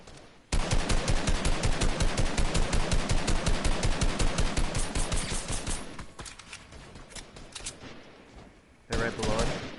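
Rapid automatic gunfire in a video game, a sustained fast burst of close, loud shots for several seconds that trails off, then a second short burst near the end, with a voice talking faintly amid it.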